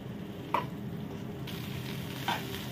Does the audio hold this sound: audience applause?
no